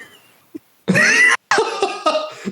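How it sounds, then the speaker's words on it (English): A person coughs twice in quick succession, close and fairly loud, after a faint throat sound, with a brief gap between the harsh bursts. "I'm gonna cough."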